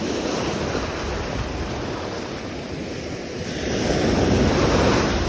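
Rough sea waves surging and breaking around a shore angler fishing for sea bass with light tackle, a steady loud wash with gusty wind buffeting the microphone, swelling louder toward the end.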